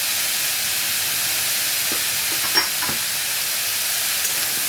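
Ground spices, salt, turmeric and cumin powder hiss and fry steadily in a pan as they are stirred, with a few soft clicks of the spoon against the metal. Nobody speaks.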